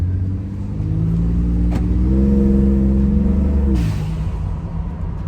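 Ford Raptor truck with a blow-off valve adapter mod revving up close, the engine climbing to a sustained high drone, then dropping sharply with a short whoosh as the throttle releases.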